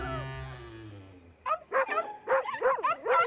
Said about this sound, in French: Vous entendez? Ce sont les autres petits chiens.